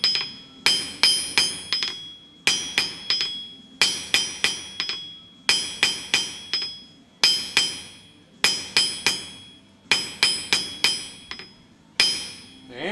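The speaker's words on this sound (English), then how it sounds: "I'm working my taper right over at the edge of the anvil" A blacksmith hammers a hot taper at the edge of an anvil, making bright metallic strikes in quick groups of three to five with brief pauses between, steady and close, with no talking.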